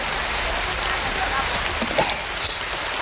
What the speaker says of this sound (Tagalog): Tapos ngayon, umulan.